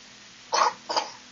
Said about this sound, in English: Ooh, you got a cough.